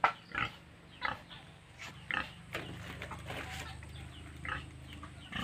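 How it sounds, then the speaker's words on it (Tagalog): Panicked pigs after Typhoon Odette in Negros squeal and grunt in sharp, irregular bursts, loud at first and then scattered. Chickens cluck among them, over a low steady hum, with no one speaking. "Kaya yung mga baboy siguro nagpanik."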